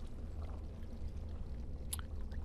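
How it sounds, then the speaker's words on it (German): Water being slowly poured from a jug in the video game Dragon Age: Origins, a steady gurgling splash under low background noise, with no talk. "Langsam gießt du das Wasser."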